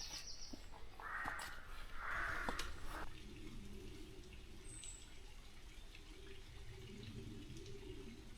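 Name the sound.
water trickling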